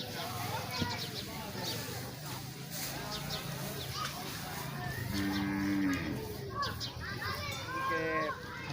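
Farm cattle moo repeatedly while being fed fodder in a trough, their low calls rising over steady background chatter, with children's voices and occasional birds nearby.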